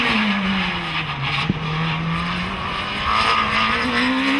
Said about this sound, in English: Full power through the kink and Haynes is really trying hard.